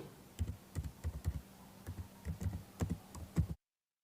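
Keys clack in short, uneven bursts on a computer keyboard while entering product names like fertilizer and seeds into accounting software, the close taps arriving in irregular clusters before cutting to silence.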